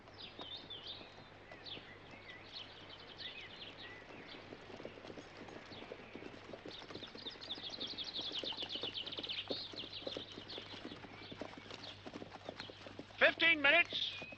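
Horses' hooves clip-clop steadily on a road beneath a moving horse-drawn coach, with birds chirping faintly and people talking over the rhythm; a brief louder burst comes near the end.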